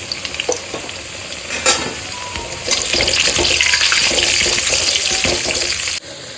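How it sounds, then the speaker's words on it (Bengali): Potato pieces frying in hot oil, a steady loud sizzle that swells around the two-second mark and stays dense until a sudden drop near the end, with occasional clinks and stirring. "তেল গরম হয়ে গেছে, এবার আলুগুলো আমি ভাজবো হালকা হালকা করে"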